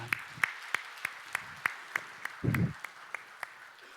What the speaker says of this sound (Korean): 하나님께는 영광이요 또 감사와 축복의 박수 해주시겠습니다